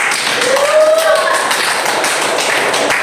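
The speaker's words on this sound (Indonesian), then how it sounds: "Beri tepuk tangan untuk." A class of children in an Islamic religious lesson clapping their hands together, a dense burst of quick claps filling the room, close and fairly loud, with some faint voices mixed in.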